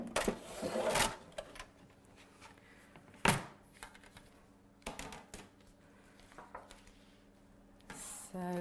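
Paper die cuts fed through a die cutting machine make a few sharp clacks and a steady low mechanical whir, heard close and moderately loud, with quieter stretches between the passes.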